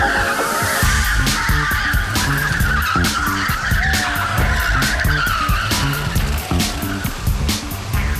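Race cars at the start of the Sentosa 24-hour race on a tight 1.8-kilometre jungle circuit, with loud screeching tire squeal and skidding over roaring engines and rapid clattering bursts as the pack jostles through the first corner.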